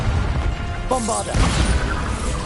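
Bombarda explosion spell blasting in Hogwarts Legacy, a loud crashing burst with rumbling debris over steady combat noise and brief magical tones.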